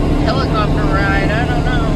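Steady, droning engine noise of planes or helicopters circling overhead near Kingman Wash by Hoover Dam, loud and continuous with a wavering propeller hum and no pauses.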